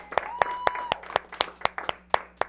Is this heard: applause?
yes